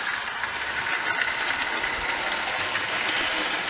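A Bachmann Southern Pacific GS-4 Daylight #4446 model steam locomotive running faster on its track, giving a steady, close, high-pitched motor whir with a faint rhythmic clatter and no pauses.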